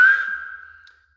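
An open-mouthed whistle, made with the mouth left wide rather than pursed, gives a single steady tone that starts loud and fades away over about a second, with nothing else around it.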